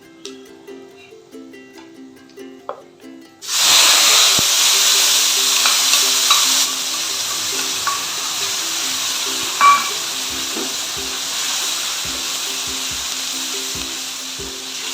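Ground spice paste hitting hot oil for kalojeere fish curry, quiet stirring taps at first, then a sudden loud, steady sizzle that softens slightly and continues with occasional clinks.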